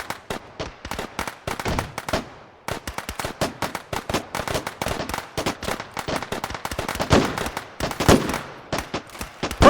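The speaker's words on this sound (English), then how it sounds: "a whole bunch of, I don't know, thematic gunfire while you snipe" Dense, continuous gunfire from many directions in H3VR desert Sosig combat, a rapid crackle of overlapping shots and bursts at moderate distance, sustained throughout with brief lulls and no talk.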